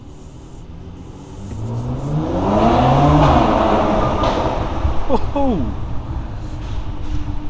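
A 2019 Mercedes C43 AMG with a performance exhaust revs in an underground car park, the engine note climbing and falling in a booming, echoing sweep, followed by sharp crackles from the exhaust, with someone speaking briefly.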